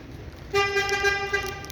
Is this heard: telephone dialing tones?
no